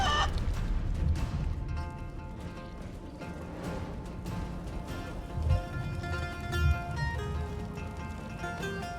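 Chicken clucking in the fantasy role-playing game Divinity: Original Sin 2, set amid a battle on Bloodmoon Island; short clucks sit within a steady, busy layer of game music and effects, with no talk.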